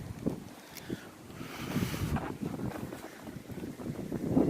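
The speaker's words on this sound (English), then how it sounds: "It's so windy." Strong winter wind buffeting the microphone outdoors in a continuous low roar, gusting louder at times, with no voices.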